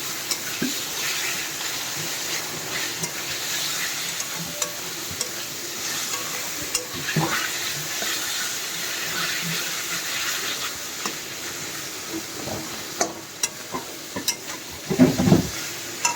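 Fish masala is stir-fried in a pan for a Bengali fish kosha, a continuous low sizzle broken by scraping stirs, with a louder burst of spatula clatter near the end.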